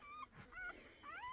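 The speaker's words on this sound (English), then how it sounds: "Both the female dogs got puppies." A dog near newborn puppies gives several short, high, wavering whimpers and whines, fairly close and soft, with brief pauses between them.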